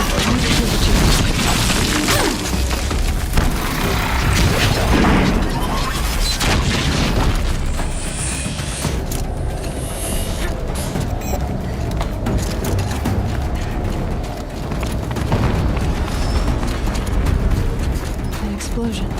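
Explosion in Horizon Zero Dawn during an Apex challenge battle, a loud sustained booming rumble that fills the whole stretch with dense crashing noise and no clear pause.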